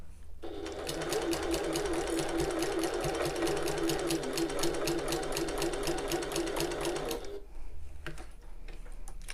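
A sewing machine runs steadily for about seven seconds, basting a quarter-inch seam around the sides of a fabric bag, its rapid needle ticking loud and close, then stops and leaves a few faint clicks.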